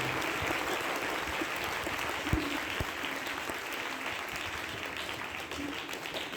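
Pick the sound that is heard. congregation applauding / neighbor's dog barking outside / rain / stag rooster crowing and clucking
congregation applauding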